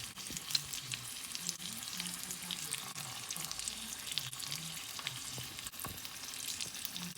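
Food frying in a pan gives a steady, close crackling sizzle with scattered pops and a few faint clanks, continuous throughout and free of any voices.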